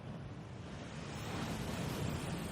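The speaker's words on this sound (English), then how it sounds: "That waterfall washes away all enchantments." A waterfall inside a Gringotts vault in the video game Hogwarts Legacy, a steady rushing wash of falling water that swells slightly louder toward the end.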